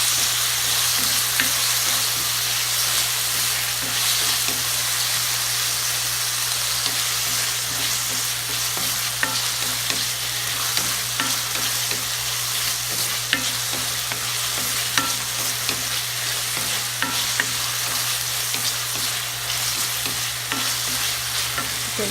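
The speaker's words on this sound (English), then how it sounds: "Saute it." Chicken sautéing in a pan while being stirred, a sustained close sizzle with faint repeated scraping of the utensil and a low steady hum, no voices.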